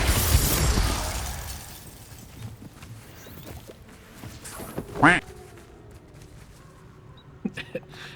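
A single short duck quack rings out in Hogwarts Legacy, brief and fairly close, following a noisy opening and set against quiet game ambience with faint clicks later.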